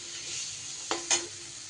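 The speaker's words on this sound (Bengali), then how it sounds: "ডালটা এবার মশলার সাথে একটু ভাজা ভাজা করে নেব।" Soaked chana dal frying with ground spices in a hot pan gives a steady, close sizzle, broken by two quick stirring scrapes about a second in.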